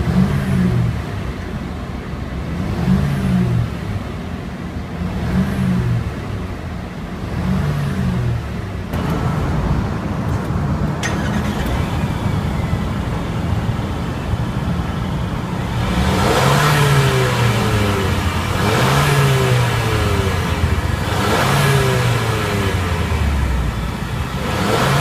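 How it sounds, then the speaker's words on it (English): A 2015 Mercedes-Benz GLA 250 4Matic engine revved while parked, several rising and falling blips of the throttle, close and fairly loud, with a steady idle between bursts. "now we're going to rev the engine and see how it sounds"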